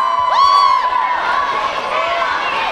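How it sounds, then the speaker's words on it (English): A crowd at a school cheerleading finals event cheers and whoops loudly, with high excited shouts and children's voices over a dense, continuous roar, and clear applause is hard to pick out. "give them a applause"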